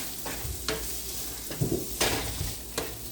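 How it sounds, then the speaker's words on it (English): Carrots sizzle steadily in a hot frying pan up close, broken by several scraping clicks as they are stirred around. "Now add the carrots to the frying pan."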